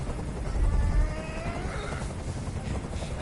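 Helicopter hovering overhead in the video game Detroit: Become Human, a steady loud whirring drone with a rumble that swells briefly and then holds, mixed with faint background sounds.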